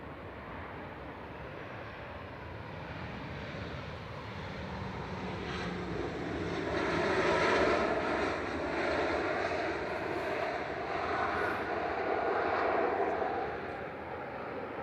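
A Ryanair jet, flight 3446 from Palma de Mallorca, registration 9H-QAB, at Manchester Airport, produces a steady broadband engine roar that swells to a peak mid-way and holds, heard from a moderate distance with no talk.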